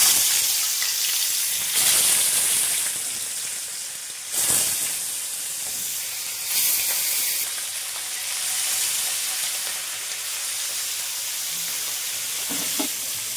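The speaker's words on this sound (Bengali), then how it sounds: "এবার তেলটা আমার গরম হয়ে গেছে, এবার মাছটা আমি ছেড়ে দেবো।" Hilsa fish fry in hot oil in a pan, giving a steady close-up sizzle and hiss with several sharp bursts of spattering as pieces hit the oil or are moved.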